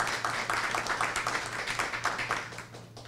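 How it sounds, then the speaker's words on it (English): A crowd applauds with steady, dense clapping that continues throughout over a faint low electrical hum. "Let's have a round of applause for these folks."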